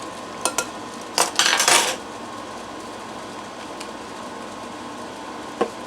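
A utensil clinks and scrapes against a bowl while peppermint extract is mixed in for freeze-dried dairy candy, with a few sharp taps and a short burst of quick stirring, then quiet room hum with occasional clicks.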